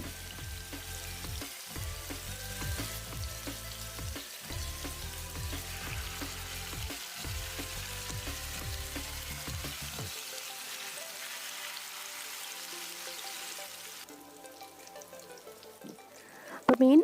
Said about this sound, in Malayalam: അപ്പോൾ മീൻ ഒരു സൈഡ് നന്നായിട്ട് ഫ്രൈ ആയിട്ടുണ്ട്.